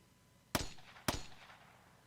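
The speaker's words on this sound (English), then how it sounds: "And then more gunshots." Two sharp gunshots ring out in the visual novel Steins;Gate 0, roughly half a second apart, each a loud crack followed by a short echoing tail against a quiet background, with no talking.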